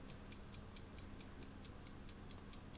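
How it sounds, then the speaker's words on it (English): A kitchen timer ticks steadily and quietly, a regular run of about a dozen crisp, light clicks spaced evenly over a low background hum, with no one talking. "Okay, not happy with the timer. And it's still making weird ticking sounds."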